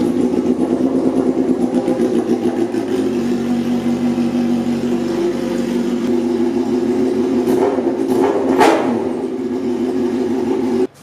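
A loud Suzuki GSX-R750 motorcycle engine with the exhaust removed idles raw and unmuffled, its rough rhythmic throb steady, then briefly revs with sharp throttle blips near the end.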